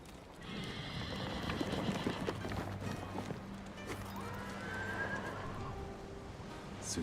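A horse in the Ghost of Tsushima video game whinnies and neighs while its hooves clip-clop steadily, set against a game ambience of wind and soft background music.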